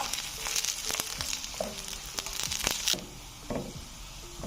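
Garlic sizzling and frying in a pan, browning before chicken is added for a masala chicken pasta, a steady soft crackle with a few light clinks of stirring.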